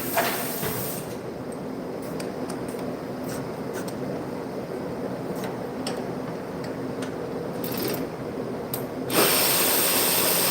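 A hand ratchet working loose the top headlight bolt on a 2013 Chevrolet Cruze, close, quick repeated clicking pawl ticks running for several seconds.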